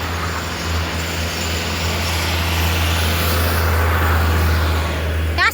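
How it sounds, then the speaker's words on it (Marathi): Roadside traffic roars past steadily, a loud continuous engine and tyre rumble with a low droning hum that fills the whole stretch, with no voice heard over it. "अशा गाड्या जातात ना म्हणून माझा आवाज येत नाही."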